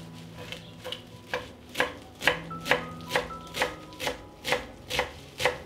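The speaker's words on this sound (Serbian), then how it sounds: "iseckat ću jednu vezu svežeg peršuna" A knife chops a bunch of fresh parsley on a board in a steady rhythm of about a dozen crisp, close taps, each a sharp cut, with no talking.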